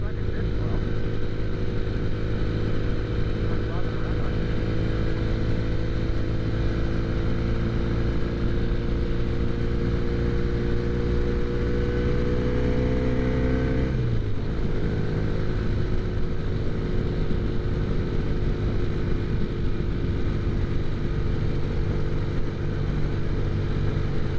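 Vehicles accelerating past on a road, with a steady engine drone that swells and rises in pitch before a sharp drop near the middle as one passes, continuous and fairly loud.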